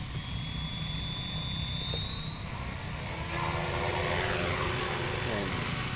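A Copter X 450 RC helicopter flying outdoors, a constant high rotor and motor whine that rises and shifts in pitch, with a steady broad rush beneath and people talking nearby.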